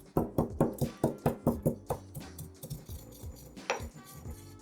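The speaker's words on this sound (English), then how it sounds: "Now we're going to give it a light bash in a pestle and mortar." Toasted cumin seeds bashed in a pestle and mortar: a quick run of about a dozen sharp, evenly spaced knocks up close, followed by softer, scattered grinding taps.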